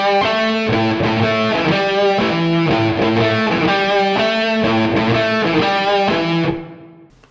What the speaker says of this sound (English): we go back to playing the riff again. But this time we play it more openly, kind of more, with more distortion